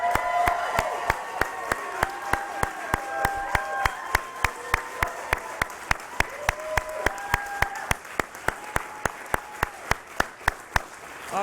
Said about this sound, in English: the louder that we clap and cheer at these events